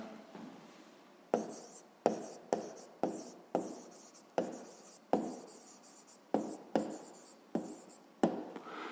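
Pen writing out the answer to a fifth-grade math problem on paper, a series of short scratchy strokes in quick bursts, close and fairly quiet, with no talking.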